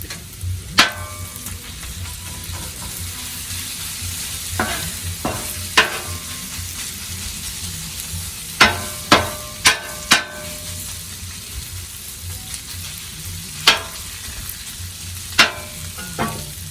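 Taco meat sizzles and fries on a Blackstone griddle over a burner turned down to low, a steady close hiss broken by sharp scraping and stirring clicks from a spatula, with no talk.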